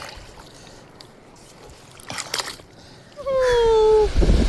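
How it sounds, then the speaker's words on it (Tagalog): Waves in a lagoon rise into a loud, steady wash of splashing and sloshing against a small fishing boat. Quiet surroundings and voices come before it, and someone speaks over the water. "Yan ang alon mga master."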